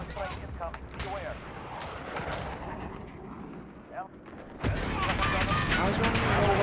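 Rapid gunfire and heavy blasts in a Modern Warfare multiplayer match, bursts and explosions crowding together before a loud sustained barrage near the end, with a voice talking over parts of it.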